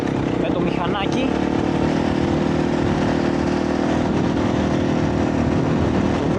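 A motorcycle rides along a long road in Argentina toward Patagonia, its engine a steady mid-pitched drone with a wavering whine early on, loud and close throughout while someone speaks over it.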